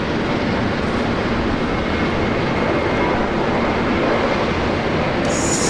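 Boeing 737 approaching Brisbane Airport, a broad, steady, loud roar of jet engine noise filling the whole clip without any talk.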